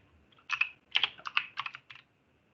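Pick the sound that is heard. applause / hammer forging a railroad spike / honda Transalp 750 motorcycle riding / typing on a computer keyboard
typing on a computer keyboard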